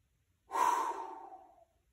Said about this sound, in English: Reach up, take a breath.